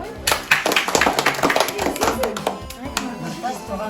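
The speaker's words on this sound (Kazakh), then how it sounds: "Шапалақ" Clapping at a family birthday for an eleven-year-old boy, with a burst of uneven hand claps from several people close by that thins out toward the end.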